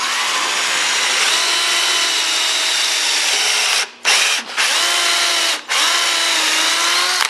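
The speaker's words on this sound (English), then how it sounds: "And now I'm drilling screws to replace those nails" A power drill drives screws into wood in place of nails while restoring the rain guards on Al Capone's car; a loud, continuous close whine runs with three brief pauses near the end, no talking.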